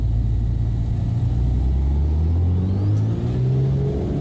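Twin piston engines of a Black Square Duke aircraft in a flight simulator run at full power on the takeoff roll, a steady loud drone with a rising whine near the end.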